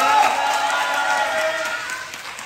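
A packed political rally crowd in Zhongli, Taiwan, clapping in a thick, continuous roar of applause that holds steady and eases slightly by the end.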